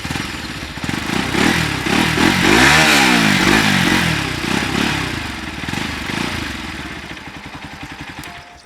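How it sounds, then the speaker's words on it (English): A Bajaj Pulsar NS 200 motorcycle engine revs up close, rising to a loud peak and settling back into a throbbing idle, with a mechanical clatter running underneath and no talk. "once hear the sound of this engine guys"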